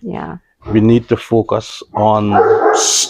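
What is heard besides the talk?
dog barking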